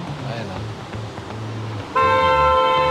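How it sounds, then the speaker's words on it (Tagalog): Over steady traffic rumble, a car horn blares once, a loud sustained honk lasting about a second near the end. "Uy, busina."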